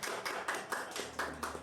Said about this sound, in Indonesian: Kita berikan tepuk tangan untuk Bapak Tio.